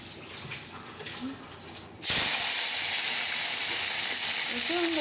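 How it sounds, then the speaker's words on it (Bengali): Spices, then cut potato, eggplant, tomato and radish, hit hot oil for fish curry. After a quiet moment, a sudden loud sizzle bursts out and holds as a steady, close hiss to the end. "চলো ফোড়নটা দিয়ে দিই চলো সবজিগুলো দিয়ে দিই"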